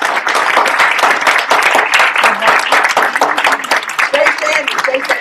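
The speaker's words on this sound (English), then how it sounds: "Everybody give them a big round of applause" Loud, sustained applause from a seminar audience honoring graduates, dense clapping that fills the room for the whole stretch, with voices and cheers mixed in near the end.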